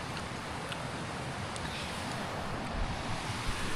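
A partly frozen mountain river in snowy Harsil Valley rushes along in a steady, faint, broad wash of flowing water that sounds alone with no voices.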